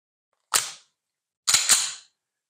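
A Springfield XD-40 pistol being racked to chamber a round: one sharp metallic snap, then a longer double clack about a second later, close and loud in an otherwise silent room.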